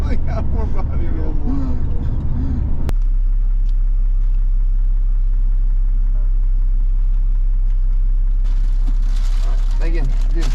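Inside a modified Jeep Cherokee XJ on a test ride, a loud, steady road and engine rumble fills the cabin throughout while people talk over it near the start and end.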